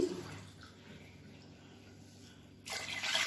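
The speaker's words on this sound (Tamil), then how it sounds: "நாலு டம்ளர் தண்ணி ஊற்றிருக்கேன்" Water is poured from a tumbler into a cooking pot while making rice with coconut milk. A quiet, low hum gives way near the end to a short, splashy rush of pouring.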